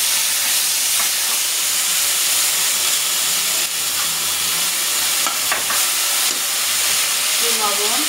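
A ground paste of onion, garlic, cumin and dried chilli frying in hot oil, crackling and hissing continuously with occasional stirring scrapes and brief spits, loud and close; a voice speaks faintly now and then.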